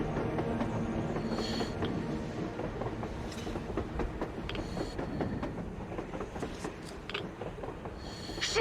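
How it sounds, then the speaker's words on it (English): A train rolls across the surface in the video game Metro Exodus. A steady rumble and wheel clatter carry on throughout at moderate loudness, with no one talking. "A train! A damn train on the surface!"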